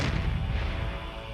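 A black powder explosion gives a loud, deep, rumbling boom that fills the whole moment and decays slowly without a clear break.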